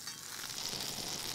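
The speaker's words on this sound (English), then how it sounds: "When that butter stops sizzling, it means it's ready to add the egg." Butter sizzles in a carbon steel pan with a soft, steady frying hiss. The burst is brief and close, with no voices.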